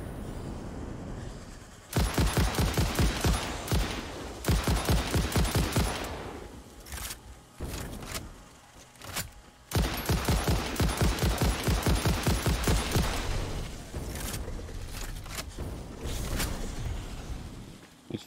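Rapid automatic gunfire from a weapon in Satisfactory, loud and close, coming in several long sustained bursts separated by short pauses, with mechanical clanks between volleys.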